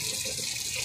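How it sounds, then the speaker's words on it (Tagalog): Steady running water pours from a tap onto ice stuck in a plastic bag, a brief close, continuous splashing hiss. "Lalagyan ko lang ng tubig para magtunaw-tunaw konti."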